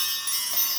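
Small hand bells rung to open a tarot reading, a bright sustained shimmering ring that is close and clear with no talk over it.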